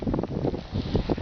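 Wind in a snowstorm buffets the microphone in brief, rough gusts, a loud, close roaring rush in open winter terrain with fir trees.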